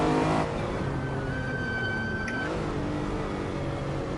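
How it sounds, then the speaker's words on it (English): Lamborghini Huracan in the Assetto Corsa racing game, its engine drone running steady and loud throughout, with a drop in pitch midway and a tonal brake whine fading as it slows. "I love the sound of the brakes."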